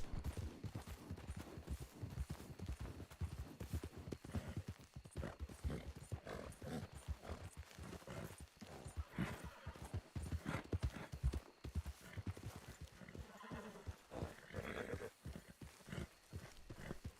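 Video game horse hooves clip-clop in a fast, steady gallop for the whole stretch, loud and close, with occasional neighs and bursts of game gunfire mixed in.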